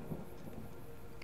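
Low rumbling thunder and a soft rain wash roll through a thunderstorm in Fallout: New Vegas, a dull, steady wide-band roar at moderate loudness with no voices over it.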